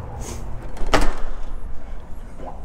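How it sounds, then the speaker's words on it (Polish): A door is opened with a single sharp clack or latch release, followed by quieter rustling and shuffling nearby. "Drzwi zostały otwarte."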